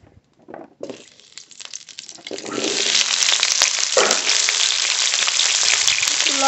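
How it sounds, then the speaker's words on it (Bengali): Cut, washed potatoes frying in hot oil in a wok for a katla fish and moong dal meal: a few soft clatters as the pieces drop in, then a loud, steady sizzle that builds and holds to the end. "আলু কেটে ধুয়ে নিয়েছি, ভেজে নেব।"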